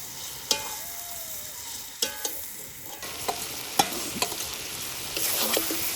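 Meat sautés in a hot pan while a utensil stirs and scrapes it, producing a steady sizzle punctuated by several sharp knocks and scrapes against the pan.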